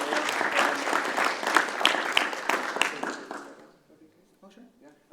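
Applause from a conference audience at a church event, dense and steady for about four seconds before fading out, with a few quiet voices afterward.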